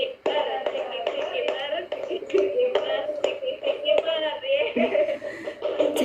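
A group plays a clapping game, sharp hand claps landing in a quick uneven series for several seconds, mixed with chanting voices and bursts of giggling and laughter.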